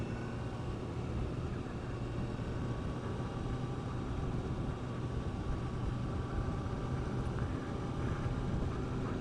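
A Honda CBR1000RR Fireblade motorcycle rolls along in third gear, its engine a steady low drone blended with constant wind rush, even in level and without gear changes.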